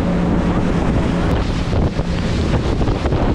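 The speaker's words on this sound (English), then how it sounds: "we're hitting some waves here" A boat pounding through choppy water with heavy wind buffeting the microphone, a constant loud rush with occasional thumps.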